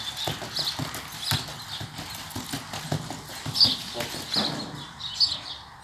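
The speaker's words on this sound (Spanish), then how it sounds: "la yegua ya trae velocidad, la yegua soltándose" A mare running in training, her hoofbeats a fast steady clip-clop at moderate distance, with birds chirping faintly in the background.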